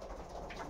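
Racing pigeons cooing at close range, a steady soft murmur of low coos running through the whole short moment with no voices.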